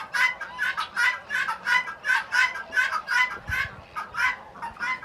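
Chickens in a farmyard coop cluck in a steady, rhythmic series of close, repeated calls, about two per second and fairly loud, with no talk over them.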